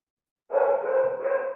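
A dog outdoors lets out a single sustained, whining bark-like cry that starts abruptly and holds for about a second, fairly close and alone.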